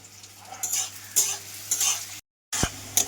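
Onion frying in a pan, with bursts of sizzling and stirring scrapes that come in uneven waves, close by, and a short gap before a final stir.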